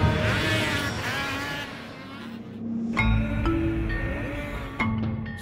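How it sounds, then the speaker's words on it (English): Snowmobiles race in a championship snocross series: high-revving engines whine and rise and fall in pitch as machines pass by, with sharp bursts of acceleration, fairly close and loud. "Snowcross, a high-octane winter motorsport pitting the fastest snowmobile racers from around the globe against one another."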